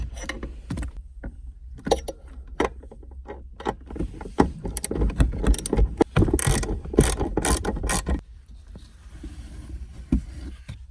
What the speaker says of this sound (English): I'm going to use this socket wrench with an extender on it